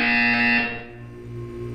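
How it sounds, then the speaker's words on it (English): A loud electronic buzzer tone from the video game Portal 2 sounds steadily for about half a second, then cuts to a quieter lingering hum. "You will hear a buzzer."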